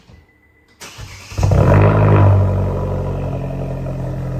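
A Vauxhall Astra GT with its exhaust back box deleted starts up nearby. A short crank is followed by a loud rev that settles into a deep, throaty rumble, and a voice briefly reacts.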